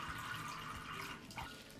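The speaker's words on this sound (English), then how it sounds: "The water really just drains super freely out of here." Water draining freely through the potting medium of a Monstera subpinnata, a faint close trickle and splash of water running out steadily, with no talk.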